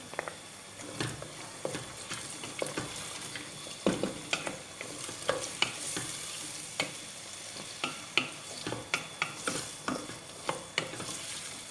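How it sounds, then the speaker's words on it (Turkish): Chopped garlic and vegetables sizzle in a pan while a utensil stirs and scrapes, producing irregular clicks and scrapes over a constant frying hiss. "Ve iyice çeviriyorum."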